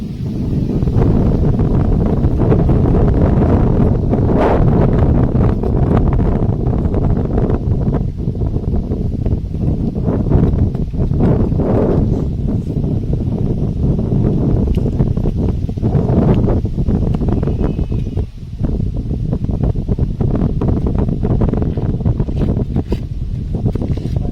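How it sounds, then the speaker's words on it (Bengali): Strong wind gusts at a riverbank and buffet the microphone with loud, rumbling, continuous roaring that rises and falls in uneven surges. "নদীর কিনারায় জোরালো হাওয়া বইছে"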